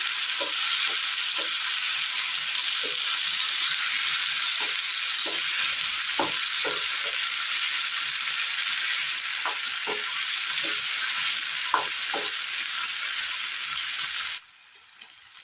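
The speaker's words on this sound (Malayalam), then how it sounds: "ഇതിലേക്ക് അരച്ച് വെച്ചിരിക്കുന്ന തക്കാളി ചേർത്ത് കൊടുക്കാം നല്ലതുപോലെ മിക്സ് ചെയ്തെടുക്കാം" Ground tomato paste sizzles in a pan for a spicy ginger vegetable dish while a utensil stirs it, with scattered scraping taps over a steady hiss that drops away sharply near the end.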